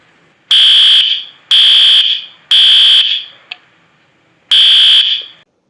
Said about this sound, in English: I pulled the fire alarm in the hotel